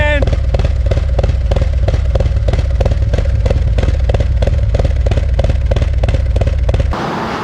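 A Harley-Davidson Street Glide Special, bored from a 114 to a 124, idles loud and close with a steady rhythmic lope of firing pulses, then cuts off sharply near the end.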